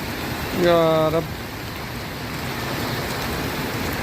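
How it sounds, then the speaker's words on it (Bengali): Continuous rain hisses steadily throughout with strong wind on a desert night, with a brief tonal call rising early on before the downpour carries on alone. "বৃষ্টি সাথে জোড়ো হাওয়া প্রচুর হাওয়া বইছে"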